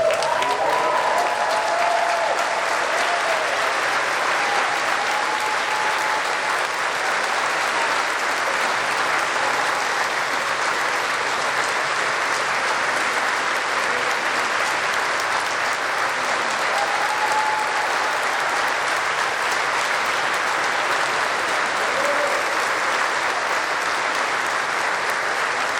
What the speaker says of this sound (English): Can we stand and get a huge round of applause to the entire